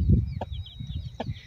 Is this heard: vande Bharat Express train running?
no